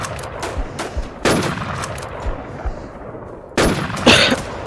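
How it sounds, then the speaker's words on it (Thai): Gunfire in the video game WarZ Infestation, a few loud heavy shots and short bursts with ringing echoes against a rumbling game background. "ปลาสวาย โดนกูยิง"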